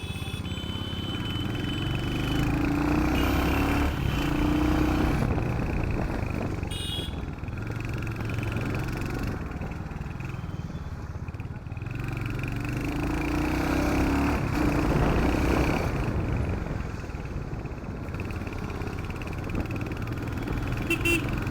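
A Royal Enfield Hunter 350 motorcycle ridden at a steady pace, its engine a continuous low rumble mixed with wind roar that swells and eases slightly over about twenty seconds, with no talking.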